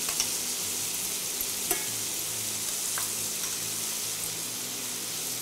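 Chanterelle mushrooms sauté in butter in a pan over lowered heat, giving a steady, even sizzle with faint stirring clicks, close and alone.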